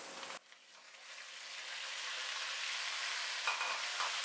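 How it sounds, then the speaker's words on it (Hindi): Boiled beef frying with ginger and garlic for a shinwari karahi gives a steady, quiet sizzle that rises slightly after a brief stir at the start, with no talking. "गोश्त को तकरीबन 3 से 4 मिनट फ्राई करेंगे।"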